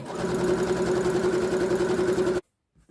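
A sewing machine stitches elastic onto knit fabric for a skirt, producing an even, rapid mechanical hum for over two seconds before stopping abruptly into silence.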